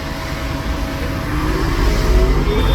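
Road traffic passes along a street, a broad engine rumble that swells toward the end as vehicles draw nearer, with no talking.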